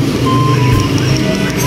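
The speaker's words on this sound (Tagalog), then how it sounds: "Yung alarm ang problema, alarm." Faint electronic e-bike alarm beeps repeat over a loud, steady rumble of motor or road noise.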